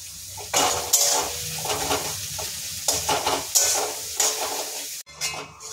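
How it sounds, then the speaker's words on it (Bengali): Onions and chilies sizzle steadily in oil in a pan while a utensil stirs and scrapes in bursts, close up, with the frying hiss continuing between strokes. "পেঁয়াজ লঙ্কা ভাজা কমপ্লিট"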